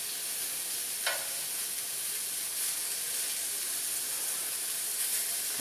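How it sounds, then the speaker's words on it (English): Onion frying in a little canola oil in a hot pan for a smash burger, a steady close hiss and sizzle with faint crackles running the whole time. "It's just that little bit of canola oil to cook the onion in."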